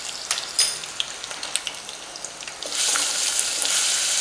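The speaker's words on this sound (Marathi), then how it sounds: "लसूण चांगलं फ्राय करून घ्यायचं आहे तेलामध्ये, जिरं मोहरी आणि कढीपत्ता तेलात चांगलं फ्राय करून घ्या" Garlic frying in hot oil with cumin, mustard seeds and curry leaves for a Maharashtrian buttermilk kadhi tempering, crackling in scattered pops that swell into a steady, loud sizzle partway through, with no voices.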